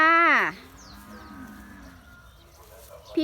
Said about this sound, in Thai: ดูวัวเด็กๆสิน่ะ